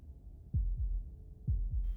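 Heartbeat sound effect: low, muffled lub-dub thumps in two evenly spaced pairs, deep and thudding against a quiet background.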